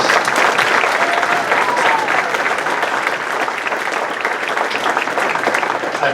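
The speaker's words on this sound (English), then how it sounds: "Let's have one more round of applause for the 4 major award winners." Sustained applause fills a hall at a spring band banquet, many hands clapping densely and loudly for award winners, steady throughout without a break.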